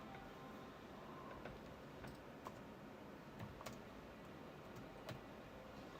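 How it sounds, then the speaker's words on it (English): Typing on a computer keyboard: sparse, faint clicks and taps at irregular intervals over a steady background hiss, with no talking. "Typing up a new thing."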